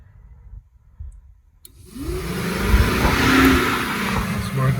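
A 2007 Fiat Bravo radiator cooling fan running at speed 2 stays quiet at first, then spins up about halfway through into a loud, steady whooshing roar of airflow that holds to the end.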